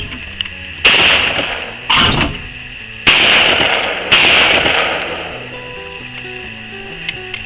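Shotgun blasts ring out during skeet shooting in an open field: four loud, sharp reports spaced a second or two apart, each trailing off in a long echo, with quiet pauses between and no talking.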